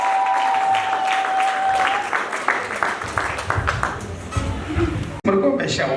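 Wedding congregation applauding together as a service begins, steady dense clapping filling the room for several seconds with a sustained tone early on and talk mixed in, ending abruptly.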